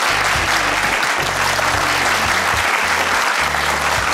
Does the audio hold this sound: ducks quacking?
no